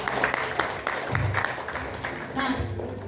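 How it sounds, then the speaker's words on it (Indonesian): An audience at a marketing plan seminar claps for a few seconds, a fairly close, steady patter of hands mixed with a murmur of voices. "Tepuk tangan dong."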